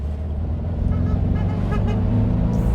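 A 1958 Porsche 356A Speedster on a farm road, its engine droning close and steady as it pulls through first and second gear, with a brief rise in pitch around a shift and no talking.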